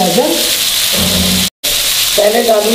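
Julienned carrots go into a hot pan for a chicken noodle bake, setting off a loud, steady sizzle broken by a brief gap, with a voice speaking at the start and end.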